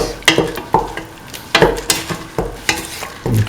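Tomato rice with mung beans is stirred in a pan, with a spoon scraping and tapping in regular strokes about every half second over a faint sizzle, close and loud.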